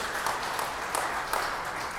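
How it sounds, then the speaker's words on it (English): Audience applause during an onstage interview with an actor: steady, moderately loud clapping from a crowd sustained through the whole moment, with no speech over it. "Yes, definitely clap for that."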